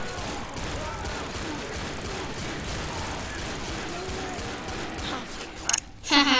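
Sustained gunfire in the Left 4 Dead video game as players shoot at a Tank, a dense continuous barrage of shots with game effects crackling near the end.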